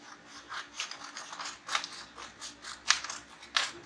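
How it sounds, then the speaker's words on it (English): Scissors snip through paper to cut out a rose petal shape, with a string of soft, close, irregular snips and rustles spaced through a quiet room. "I'm going to take my scissors and cut this shape out."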